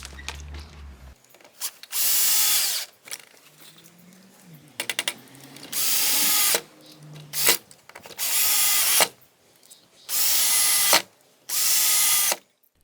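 A power drill drives screws into a wooden garden gate in five loud, separate bursts of about a second each, with pauses and small handling clicks between them.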